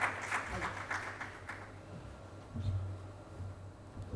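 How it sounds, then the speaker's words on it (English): At a shared mobility summit an audience claps to welcome a speaker, a moderate patter that fades within about two seconds. A low hum runs beneath it and voices can be heard. "Please welcome him with a round of applause."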